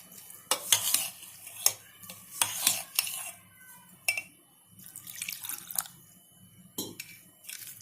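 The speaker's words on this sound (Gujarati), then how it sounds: "હવે આપણે થોડું થોડું પાણી નાખતા જઈશું અને મિક્સ કરતા જઈશું" Water is added little by little to a curd batter for trirangi sandwich dhokla and stirred in a bowl, giving close, intermittent clinks of a spoon against the dish and soft liquid splashes, with no talking.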